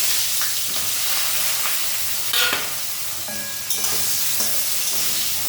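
Eggplant hits hot oil with nigella seed tempering in a pan, a loud close sizzle and hiss with a brief flare of spattering as the pieces go in.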